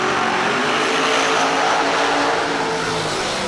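Drag race cars launch off the start line at a Saturday Working Man's $10 Grands event, a loud, continuous engine roar filling the whole stretch without let-up.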